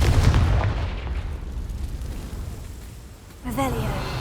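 A Confringo fire-blast spell from the game Hogwarts Legacy goes off as a loud, rumbling burst that rolls on for several seconds, followed by a fresh swell of noise near the end.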